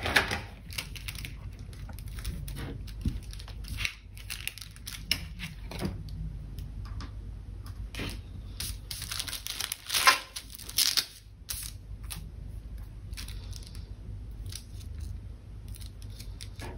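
Scissors snip through paper for a planner layout: repeated close, crisp cuts in irregular bursts, with light paper rustling between strokes and no voices.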